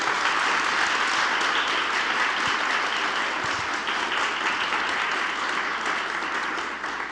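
An audience at a convening on air travelers' safety and rights breaks into sustained applause, dense and steady clapping that fills the room and tapers only slightly near the end.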